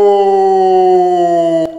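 A Kangal shepherd dog, the large Turkish livestock guardian breed, gives one long, loud, steady howl close by that slowly falls in pitch before cutting off.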